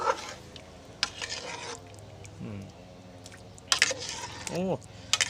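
Coconut milk with added coconut cream simmers in a pot for a Thai banana-in-coconut-milk dessert while being stirred, giving soft scraping and wet swishing strokes at irregular intervals under a voice talking.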